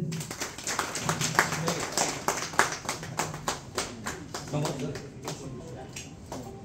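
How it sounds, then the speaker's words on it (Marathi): Audience clapping to welcome a guest at a bank branch renovation ceremony, a crowd's scattered, rhythmic handclaps that rise and then thin out, moderately close. "सर्वांनी टाळ्या वाजवायचे."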